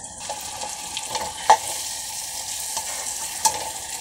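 Gongura pickle being mixed with coriander powder, a soft wet sizzle-like hiss with a few sharp clicks of a spoon against the vessel, close and fairly quiet, with nobody speaking.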